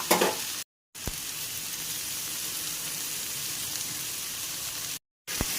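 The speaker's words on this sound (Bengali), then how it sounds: "এবার ভালো করে বেগুন আর কুমড়োটাকে ভাজবো।" Eggplant and pumpkin pieces fry in a pan with salt and turmeric, giving a steady, close sizzle that runs continuously apart from two brief dropouts.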